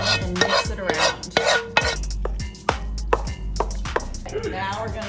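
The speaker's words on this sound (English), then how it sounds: "So it doesn't stick, we're gonna put our olive oil and onions in it and mix it around." A utensil stirs drained pasta with olive oil and onions in a metal pot, giving repeated close scrapes and clanks in an uneven rhythm, with a faint sizzle underneath.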